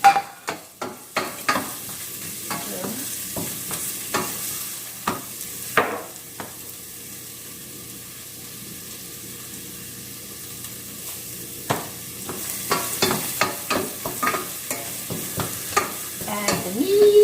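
Browning garlic stirred in a pan, with a steady low sizzle and clusters of sharp spoon scrapes and taps at the start and end, and a quieter stretch of plain frying in the middle.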